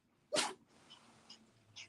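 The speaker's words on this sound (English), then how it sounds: "you sneezing, kitty?" A pet cat gives one sharp, close sneeze, followed by quiet sniffles and a faint second snort in a hushed indoor room.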